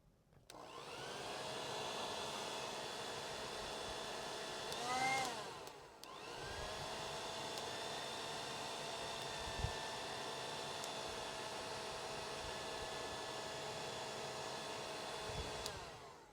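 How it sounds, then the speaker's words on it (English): An old household hair dryer blows a steady whooshing roar while drying paint on a custom airbrushed crawfish-pattern crankbait, running continuously with a brief pitch wobble and a short dip midway, fairly close. "Then I like to get my hair dryer."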